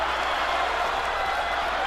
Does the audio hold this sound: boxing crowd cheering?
yes